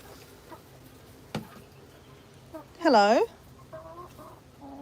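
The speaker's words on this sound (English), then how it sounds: "And there's that big chicken." A large chicken gives a short, loud, harmonic squawking cluck near the middle, with quieter clucks after it, over background noise and a brief spoken greeting.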